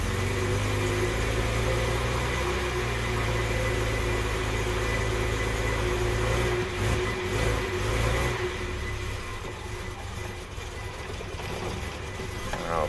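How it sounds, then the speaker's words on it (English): A car engine idles roughly through a cold start, with a strained, whining alternator droning under the steady motor hum; the engine note dips and wavers partway through, as if close to stalling, before settling again. "That alternator doesn't sound happy."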